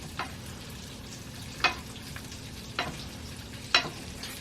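Hot fat sizzles steadily in a pan as it is spooned over salmon, a soft continuous hiss broken by four sharp spoon clinks and splatters at irregular intervals.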